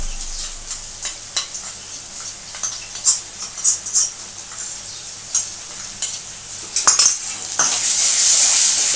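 Spices fry in a pan for an egg and potato curry while a utensil scrapes and clicks against the metal, and the sizzle swells loudly at the end.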